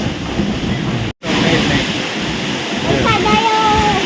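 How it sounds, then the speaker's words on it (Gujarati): Strong wind and heavy rain roar during a sudden storm, a dense, loud, continuous wash of noise with one brief dropout, and a voice speaking over it near the end. "ડેરો પવન ને વરસાદ ચાલુ થઈ ગયો છે હવે"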